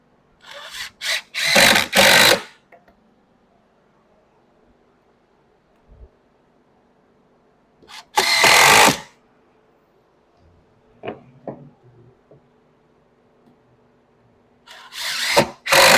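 A power drill drives screws into a split board in three loud bursts of whirring, near the start, middle and end, with quiet handling knocks in between.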